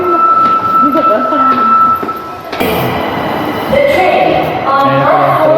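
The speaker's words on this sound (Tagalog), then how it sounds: "Ayan na pala yung tren." A train pulls into a station in Osaka, Japan, with a steady whine and rumbling wheels that shift into a louder, busier rush midway, while people talk nearby.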